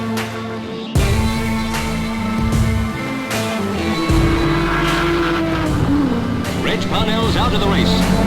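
Historic racing cars roar past at a circuit event, an Aston Martin overtaking an HRG, loud droning engines with a rising pitch sweep as one car passes close, under a commentator's voice.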